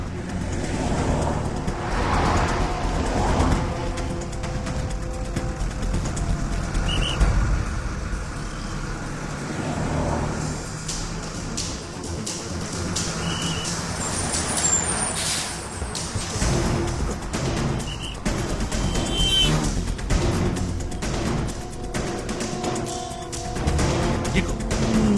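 Bus engine idling and rumbling amid road traffic, a low steady drone with passing vehicle noise layered over it, moderately loud throughout.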